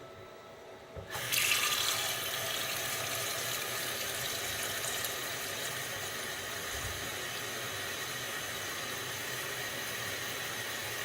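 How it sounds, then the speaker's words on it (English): Tap water gushes steadily into a cooking pot holding USDA choice lamb loin chops, starting abruptly after a second of quiet and then running as a constant, fairly loud broadband rush for the rest of the clip. "Turn on the water."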